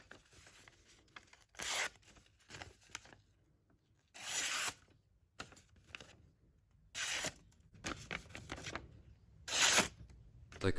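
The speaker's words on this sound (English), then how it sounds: "cut up some paper to show you how sharp it is" A sharp hand-forged chef's knife slices through paper in repeated bursts of crisp tearing and rustling, each cut short and close, separated by quieter pauses over about eleven seconds.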